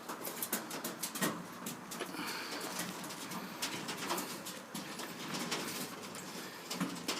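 Young homing pigeons coo in a loft, a soft, layered murmur of overlapping calls and flutters, close and continuous with no speech.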